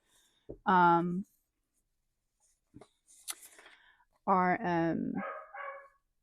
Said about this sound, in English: Sorry, Rowan, my pup that's down there protesting his lack of dinner, sometimes it really distracts me